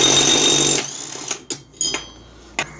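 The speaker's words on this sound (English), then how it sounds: "Pulley. Nut. Impact gun. Tight." Impact gun tightening a pulley nut on a riding mower engine, a loud close burst of rapid hammering that cuts off, then several short sharp clanks and taps.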